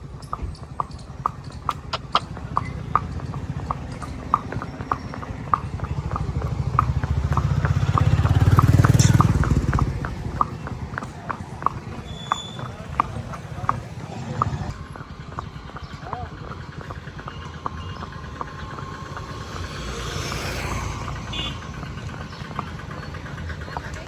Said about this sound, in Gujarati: જો આપણે ઘોડી લઈને નીકળીએ ચિત્રાને લઈને આટો મારવા